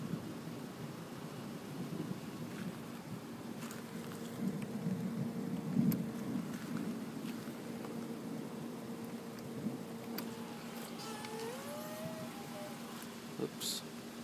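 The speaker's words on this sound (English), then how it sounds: "The thunder." Thunder rumbling during a lightning storm in New Jersey, a low distant roll building and swelling around the middle amid background rain-like noise, with brief faint voices.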